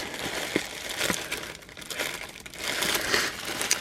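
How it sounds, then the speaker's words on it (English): Plastic packaging crinkles and rustles steadily while a Disney-themed monthly subscription box is unboxed, the crackling close and continuous with brief sharper crunches. "Sorry for the crinkling."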